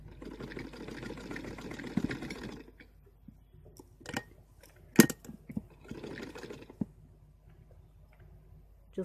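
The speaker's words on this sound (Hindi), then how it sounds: "इस प्रकार से पूरी फुल राउंडिंग इसकी स्टिचिंग करेंगे हम।" Sewing machine stitching fabric all the way around a back neck design, a short burst of rapid mechanical stitching, a pause filled with scattered clicks and taps, then another brief run of stitching.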